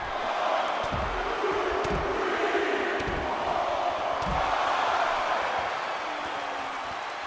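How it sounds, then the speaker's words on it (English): Wrestling fans in a coliseum roar in a continuous dense wash of crowd noise, with a few dull thuds from the ring underneath and no clear talk. "You can hear here at this Coliseum the crowd screaming"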